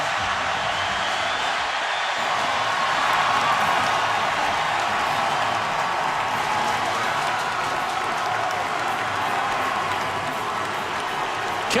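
Large stadium crowd at Bill Snyder Family Stadium before a 2014 college football game between Auburn and Kansas State, a dense, steady roar of applause, cheering and murmur filling the whole stretch at constant loudness.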